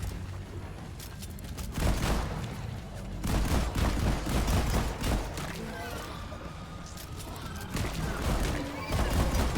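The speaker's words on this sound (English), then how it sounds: "Cycle overload with auto fire feels like an AA-12" Rapid full-auto gunfire with cycle overload in the video game Deep Rock Galactic, bursts of dense shots repeating through the clip amid game noise, with voices talking over it.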